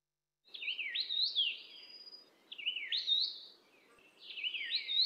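A Taiwanese bird related to the sibia sings three rich, clear whistled phrases, each a rising and falling warble, with short gaps between them, heard alone and fairly close.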